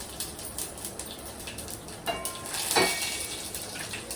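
Tempering spices for tomato charu (fenugreek, mustard seeds, cumin, two dried red chillies and two garlic cloves) dropped into hot oil give a steady crackling sizzle, with a few light clinks of a utensil and no talk.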